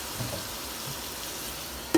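Tomatoes cooking in oil in a pan over a low flame, a soft continuous sizzle with a brief clink of a utensil at the end.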